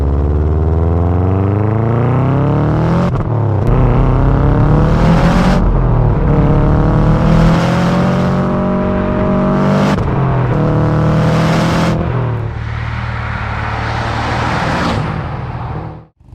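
A Subaru Impreza STI S202 bug-eye engine revs hard several times, each rise in pitch cut off sharply, loud and close, with a harsh titanium exhaust note.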